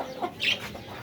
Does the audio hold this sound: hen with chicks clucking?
yes